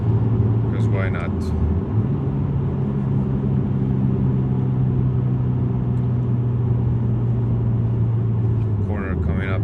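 A Subaru STI engine rumbles steadily from inside the car while driving, a low constant drone with brief rises in pitch as it accelerates, with someone speaking over it throughout.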